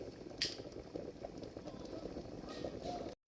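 A pot of pasta simmering on the stove, a faint steady bubbling and low burble with occasional soft clinks, heard close and quiet.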